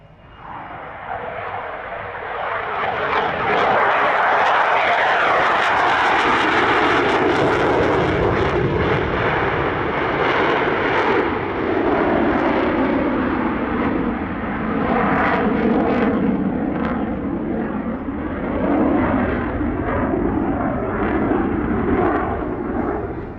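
A fighter jet flies a tight display at the Meaux airshow in 2022, its engine roaring loud and sustained as it passes and turns overhead, rising and falling across the whole stretch.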